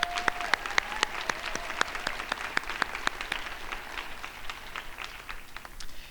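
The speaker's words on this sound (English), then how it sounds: "Let's give all of our grads a huge round of applause." Graduates at a fall community college commencement receive a large crowd's applause, dense steady clapping with a few sharp claps standing out, gradually thinning toward the end.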